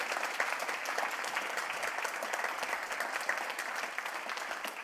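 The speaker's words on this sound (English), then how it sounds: "Give her a big round of applause." A live audience in London applauds a youth competition winner with steady, fairly quiet clapping that holds at an even level from start to finish.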